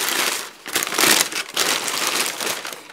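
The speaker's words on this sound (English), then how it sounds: "you wrap it over and over, but crumple the paper as you go" Packing paper crumpled and crinkled by hand while wrapping a cup for a house move, a loud, continuous rustling crunch with a few brief pauses, close up and alone.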